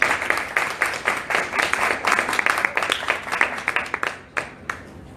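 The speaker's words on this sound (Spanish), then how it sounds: "Nos recibimos con fuertes aplausos" Audience applause at a round table discussion at the Lima book fair, FIL Lima 2017, with loud, close claps packed densely before thinning and fading near the end.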